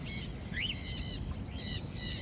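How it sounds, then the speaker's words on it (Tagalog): A crow calls a few times in short harsh bursts from a moderate distance, heard over a low steady background rumble with no talking. "uwak pa rin ito nasa likod"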